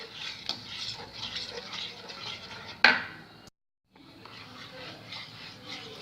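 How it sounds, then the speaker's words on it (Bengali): A spoon stirs gram flour batter for besan chilla in a bowl, giving a repeated wet scraping rhythm close up, with a sharp clink, then a brief silence before the stirring resumes. "ভালো করে সবগুলো আমি মিশিয়ে নেব।"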